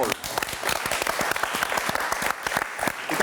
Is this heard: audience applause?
yes